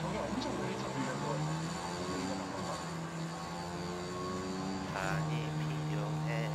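Airplane droning past in the battle royale video game PUBG, a steady low engine hum with a shifting tonal whine, moderately loud under game sounds and players talking.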